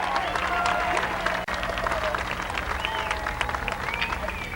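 Crowd applauding and clapping in the stands at Columbus Motor Speedway, an IMCA Modifieds race night, with steady dense applause throughout and a brief dropout midway.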